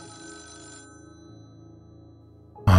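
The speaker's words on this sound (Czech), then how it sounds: "mi znovu zazvonil telefon" A telephone rings with a steady electronic trill for a couple of seconds, then a louder burst of noise cuts in at the end.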